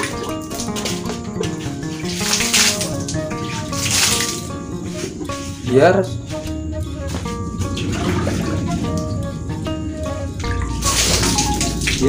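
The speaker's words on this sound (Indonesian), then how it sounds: "Ya kita siram lantainya" Water pours and splashes onto a dirt floor in uneven bursts, with music playing in the background and a brief spoken word.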